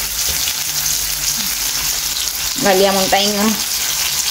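Fish frying in a pan, a steady loud sizzle throughout, close up, with a voice speaking briefly over it.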